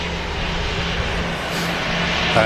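EasyJet airliner touching down at Manchester Airport, a steady broad roar of jet engines and rushing air heard at a moderate distance for a few seconds without talk.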